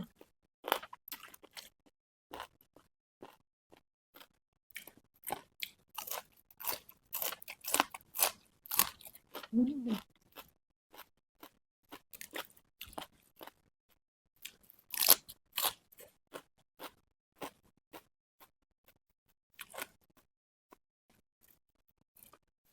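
Crunchy chewing of chicken feet in spicy Thai papaya salad with rice noodles: close, irregular bursts of crisp crunching with short pauses between bites, and no talking.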